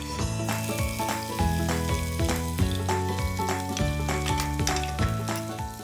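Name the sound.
ginger garlic paste sizzling in oil tempering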